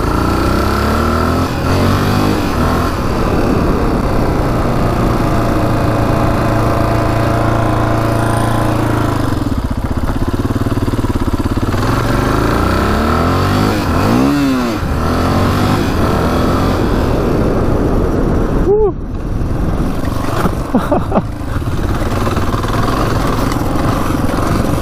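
A rare Honda 500cc motorcycle engine, just revived after years unused, runs loud and steady throughout, with a couple of revs rising and falling near the middle and toward the end.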